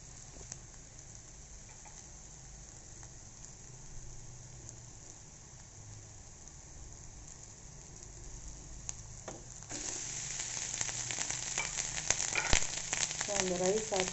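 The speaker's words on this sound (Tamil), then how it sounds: "இது வந்து கத்திரிக்காய்க்கு நல்லா பரட்டிடணும்" Brinjal tossed with spice powder in a pan, giving a low, steady frying hiss that becomes louder and crackling partway through, with scraping stir sounds near the end and no talk.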